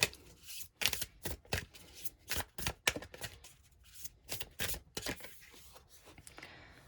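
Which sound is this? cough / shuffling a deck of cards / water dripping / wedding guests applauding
shuffling a deck of cards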